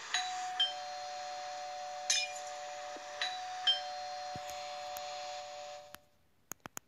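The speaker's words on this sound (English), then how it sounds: "We also have a doorbell, and guess what, the best thing about this is that it actually has a sound." A doorbell from a furniture mod in Minecraft PE chimes with a steady electronic tone and a few soft dings, then cuts off into near silence broken by a couple of faint clicks.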